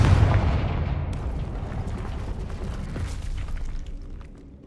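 A Confringo blasting curse explodes in the video game Hogwarts Legacy. A loud, deep boom hits at once, then trails off into a long rumbling, crackling decay.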